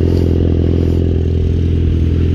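Yamaha XJ6 motorcycle running steadily up close, a loud continuous engine drone with a low rumbling exhaust and mechanical clatter, no voices over it.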